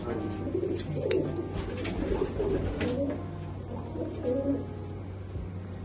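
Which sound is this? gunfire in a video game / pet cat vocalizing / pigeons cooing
pigeons cooing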